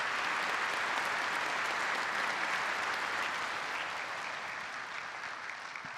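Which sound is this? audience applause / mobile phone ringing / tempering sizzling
audience applause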